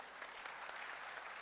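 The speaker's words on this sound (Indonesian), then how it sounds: "Tepuk tangan dulu buat Tri Megah." Applause from an audience at a formal Indonesian political outlook event, a dense, steady clatter of many hands clapping throughout, filling the room with no voices rising above it.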